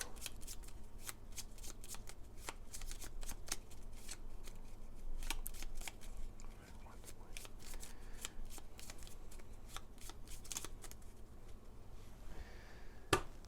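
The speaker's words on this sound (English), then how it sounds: "Oh, we need to shuffle this one" Gloomhaven board game cards are shuffled by hand in repeated quick riffles and snaps, crisp close rustling bursts at a low overall level with no talking.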